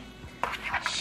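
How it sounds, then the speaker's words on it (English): Mac and cheese egg and cheese mixture being mixed in a bowl, with a few close clinks and scrapes of a utensil against the bowl over a soft background hum. "she mixes it up really good"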